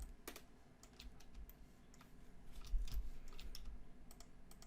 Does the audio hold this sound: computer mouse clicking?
yes